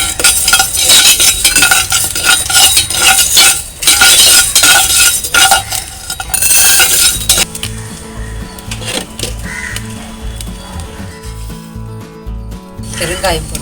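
Fenugreek seeds tipped into a pan and stirred with a spoon while roasting spices for homemade sambar powder, giving busy scraping and clinking that turn into sparser taps and rattles partway through.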